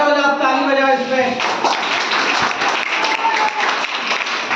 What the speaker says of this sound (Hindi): खड़े हो जाओ, ताली बजाओ इस पे।